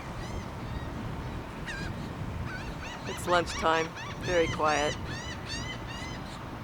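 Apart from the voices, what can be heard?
seagulls calling at lunchtime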